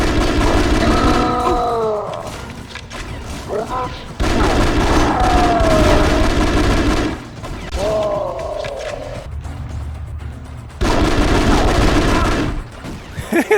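A USP-45 pistol in the video game The Conduit fires in rapid repeated bursts, loud sharp shots packed closely together, separated by short pauses, with game effects sounding between them.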